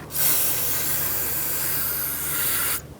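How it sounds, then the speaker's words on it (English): Brake parts cleaner sprays in one continuous loud hiss lasting nearly three seconds, then stops abruptly, with a faint low hum underneath. "We're gonna rinse it out with brake parts cleaner."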